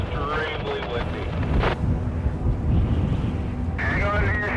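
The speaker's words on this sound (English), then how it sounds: "it is extremely windy." Strong wind roars and buffets the microphone continuously during a storm in Hope, British Columbia, with a voice talking over it near the start and end.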